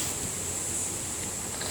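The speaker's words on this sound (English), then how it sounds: "I'm glad I came out for a walk because it's nice and windy" Wind rushes steadily outdoors on a walk, a soft, even, breathy roar buffeting the microphone with no voices.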